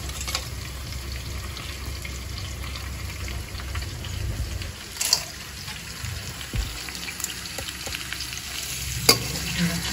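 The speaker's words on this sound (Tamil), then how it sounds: "கடாயில் போட்டு வதக்கணும்." Crab sautéing in a kadai gives off a steady sizzle and crackle across the whole stretch, broken by occasional stirring scrapes and clinks, fairly close and with nobody speaking.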